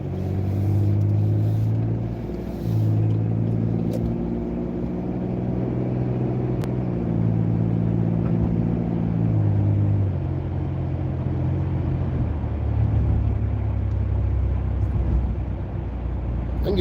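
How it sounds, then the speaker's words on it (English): A car moving forward and accelerating into open road, heard as a steady, close engine drone with a low rumble whose tone shifts slightly as the vehicle speeds up. "Once it's clear, I'm going to push the gas and go into the open space."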